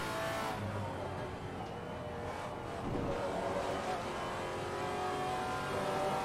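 A Maserati MC GT4 race car engine in Assetto Corsa Competizione drones and revs at moderate volume over the full stretch, with a brief surge in the middle as the throttle comes back on.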